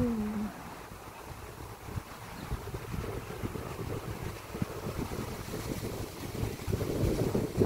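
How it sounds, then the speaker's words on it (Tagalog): Steady strong wind roaring and buffeting the microphone outdoors beside a lake, with a rumbling, gusty rush that swells louder toward the end. "Dinig na dinig yung lakas ng hangin"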